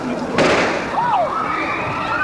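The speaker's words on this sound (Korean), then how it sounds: "이미 범인이 제압된 사건 현장에서 또 한 발의 총성이 울립니다" A single sharp gunshot cracks out early at the scene of the 1974 shooting of First Lady Yuk Young-soo, standing out over a dense, steady background.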